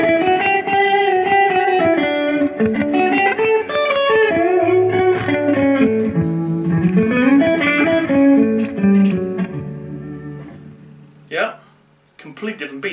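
A Dean Explorer-style electric guitar on its neck pickup runs through a Bugera 333XL amp, playing a flowing melodic line over held notes, loud and close, ending in a brief clatter and fade.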